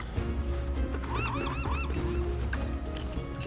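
A bird honks three times in quick succession in Don't Starve Shipwrecked, goose-like calls rising over a steady background of game music and ambience.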